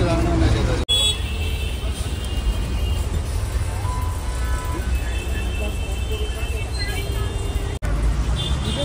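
Constant low engine rumble and road noise from inside a moving state transport bus on a Mumbai to Vijaydurg route, steady throughout with faint rattles and a light hiss.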